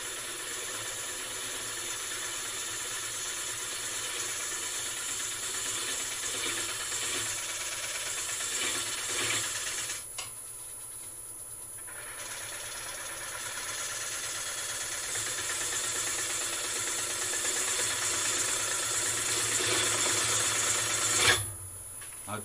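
Wood-turning gouge cutting a large platter on a lathe, a steady loud rasping, scraping drone with brief dips as the tool lifts away, running for over twenty seconds without talk.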